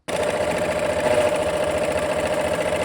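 Sewing machine running a quilt seam, a close, steady, loud mechanical hum with a quick regular needle chatter from start to finish.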